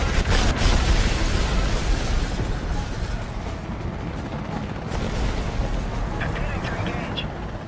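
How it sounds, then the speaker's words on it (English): Loud bursts of Hydra rocket fire from an Apache helicopter and booming explosions in a video game, heaviest at the start and continuing over a steady low rumble. "the one you're seeing me use right now is the Hydra rocket"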